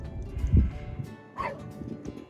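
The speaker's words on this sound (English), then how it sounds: "Sorry about my dog barking, by the way." Dog barking inside a van, two or three short yips and a whiny bark, muffled and moderately close, with some background handling noise.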